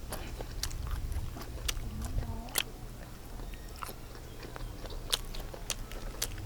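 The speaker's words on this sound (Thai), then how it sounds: "ย่างเสร็จแล้วก็โรยผงนะครับ คือว่าลอง ชิม กัน" Someone chews freshly grilled mala skewers sprinkled with spice powder: close, quiet biting and moist chewing with small crunches repeating over a low background hum, with no talk.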